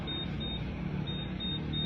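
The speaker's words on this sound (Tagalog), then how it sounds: "Uy, may kakaibang beep siya." A parked motorcycle left without its remote key emits a steady series of short, evenly spaced electronic beeps, about five in under two seconds, over a faint background hum.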